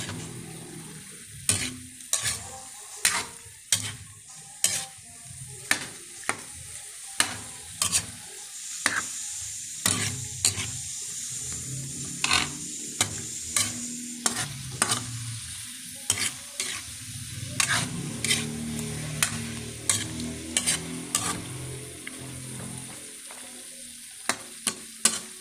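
Pork menudo with pork and beans is stirred in a pot, a spoon scraping and clacking against the metal in irregular close strokes over a steady simmering sizzle, with no voices.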